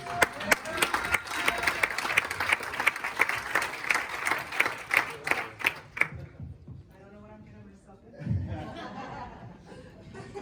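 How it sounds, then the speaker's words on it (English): An audience claps for a volunteer at a talk, a sharp burst of applause for about six seconds that then stops, followed by quieter talking and a brief chuckle. "Please applause the volunteer."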